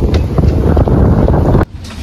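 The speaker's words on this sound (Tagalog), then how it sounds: "Lakas ang hangin dito" Strong wind outdoors in Monte Carlo, Monaco batters the microphone with loud, close rumbling buffets that stop abruptly near the end.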